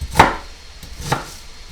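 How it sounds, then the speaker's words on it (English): A kitchen knife slices through a medium onion on a cutting board, two crisp, close chopping strokes about a second apart, with no talking. "I do like 4 cuts for a medium onion. Another 4 crisscross."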